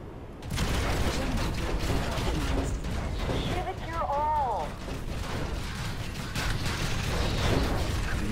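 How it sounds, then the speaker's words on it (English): Gunfire in the Planetside 2 video game, fired at players: continuous rattling shots and mechanical clatter throughout, mixed with other game noise and talking voices. "No idea what's shooting us."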